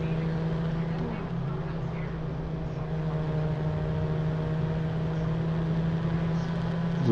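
A car engine hums and drones steadily while driving on an expressway in the Watch Dogs video game, a continuous low tone that holds at an even level throughout.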